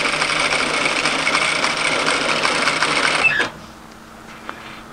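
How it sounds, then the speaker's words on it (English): A sewing machine stitches around the bottom hem of a mid-length wrap cardigan, running in a steady, loud, close whirr for over three seconds and then stopping, followed by quiet room tone. "And I'm continuing to sew around the bottom of my garment."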